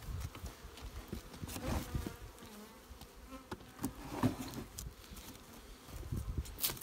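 Honey bees buzzing in a dense, steady drone at an opened beehive during honey harvest, close by, with occasional louder individual bees passing near.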